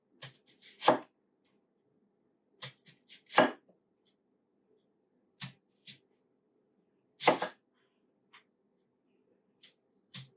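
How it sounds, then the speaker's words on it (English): A sharp knife chops a yellow onion on a cutting board in scattered groups of crisp, close knocks separated by quiet pauses. "not a sweet onion or a white onion, just a yellow onion. Put that in there and chop or slice."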